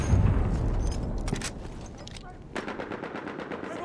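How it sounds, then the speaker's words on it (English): Machine gun fire in Battlefield 1 multiplayer combat, rapid rattling bursts with heavier booms nearby, mixed with other battlefield noise and some background voices. "Enemy machine gun!"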